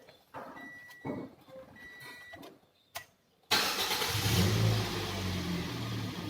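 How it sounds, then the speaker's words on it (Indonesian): A car engine cranks and starts after a brief quiet spell, then settles into a steady, loud idle. It is part of an EFI system diagnostic and runs alone with no talk over it. "Kita hidupkan lagi mesinnya."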